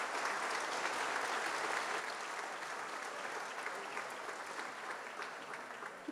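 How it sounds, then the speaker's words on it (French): Audience at a museum inauguration applauding, a continuous wash of clapping hands that starts full and slowly thins toward the end, heard somewhat distant. "J'avoue que Mme Guylaine Perron nécessitait des applaudissements."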